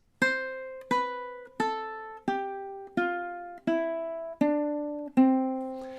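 Eight plucked ukulele notes of a descending Lydian scale step downward one at a time in an even rhythm, each ringing clearly and fading before the next, with no voices.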